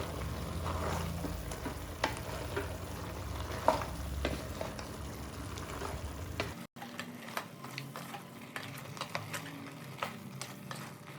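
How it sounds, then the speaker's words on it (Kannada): Onion and black pepper paste fries in a pot for mutton curry, a low, steady sizzle with scattered light ticks and spoon scrapes, fairly faint, with a brief cut midway before the frying continues. "ಈಗ ಈರುಳ್ಳಿ ಮತ್ತು ಕಾಳು ಮೆಣಸಿನ ಪೇಸ್ಟು ಎರಡನ್ನೂ ಸೇರಿಸಿ ಚೆನ್ನಾಗಿ ಫ್ರೈ ಮಾಡ್ಕೊಳ್ಬೇಕು"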